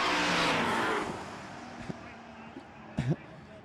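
A white Datsun race car at a roll racing event in Adelaide roars loudly at first, then fades as it pulls away. Faint engine noise and brief knocks follow, with a commentator talking over it.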